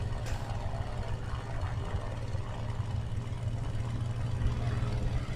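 An aircraft engine in the War Thunder video game gives a continuous low droning hum. It stays steady and fairly loud throughout, with no talking over it.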